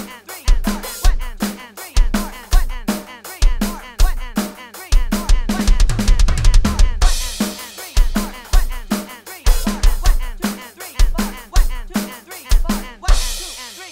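Sped-up drum pattern in a jungle and drum and bass style, with punchy kick drums landing on the one and end of three alongside crisp hats and snares, looping at a fast, steady tempo with a dense fill midway, loud and alone.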